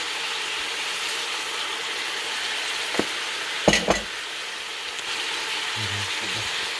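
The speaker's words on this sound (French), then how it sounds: "J'ai mis l'oignon, les pois chiches, de l'huile. Je vais saler, poivrer et je laisse revenir." Onion and chickpeas sautéing in oil in a pan give a steady, fine sizzle throughout, broken by a few sharp clicks and scraping stirs near the middle and some faint low knocks toward the end.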